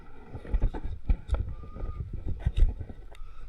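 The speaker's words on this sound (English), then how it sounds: "It's a little windy." Wind gusting across a park campground below a bridge, a steady low rumble of buffeting with irregular louder gusts, close and fairly loud with no talking.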